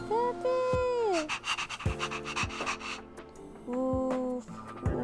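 A puppy in the Honkai Star Rail game pants rapidly and rhythmically, close and clear, while tonal game sounds rise and fall in the background.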